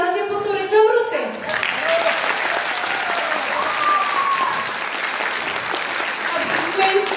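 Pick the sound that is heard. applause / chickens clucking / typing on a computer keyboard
applause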